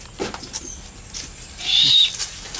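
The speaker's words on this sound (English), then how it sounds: "these are some more of the barred owls" Barred owls give a few short calls and clicks, fairly close, with a brief whistling note near the end; no talking.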